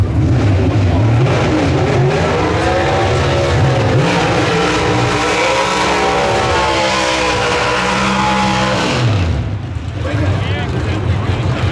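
NHRA Pro Stock drag race cars at the 2024 finals qualifying roar loudly and continuously, engines howling at high revs with rising and falling pitch, under steady commentary from an announcer throughout.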